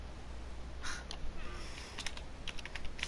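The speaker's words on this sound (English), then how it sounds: "Excuse you, I was typing" Light clicks of typing on a computer keyboard tap out in short irregular bursts over a steady background hum, faint and close.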